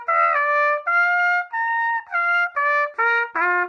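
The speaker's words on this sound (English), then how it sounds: "but whenever you do it in the trumpet, it sounds like this." Trumpet tones produced by buzzing lips into the mouthpiece, about seven short sustained notes at varying pitches, close, bright and loud with no talking.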